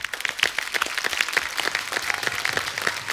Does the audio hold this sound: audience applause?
yes